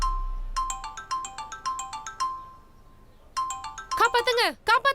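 A telephone ringtone plays as a repeating electronic melody of clear tonal notes, pausing and then starting again before a voice breaks in near the end.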